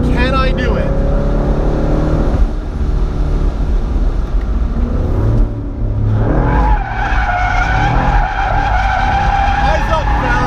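A Camaro SS drifts in a drift game, its tires skidding and squealing continuously over a loud engine roar, with people talking over the noise.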